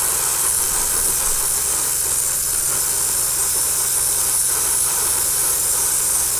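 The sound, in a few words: spraying light coats of paint on a Tamiya 1/35 model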